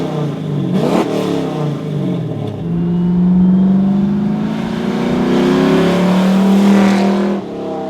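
A Flowmaster American Thunder exhaust on a 1967–72 Chevrolet C10 truck barks through a sharp rev, then settles into a deep, loud, sustained rumble that swells before easing off.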